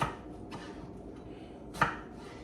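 Knife slicing mushrooms on a cutting board during meal prep, with a few separate chopping knocks, one sharper and louder cut near the end, over a steady low background.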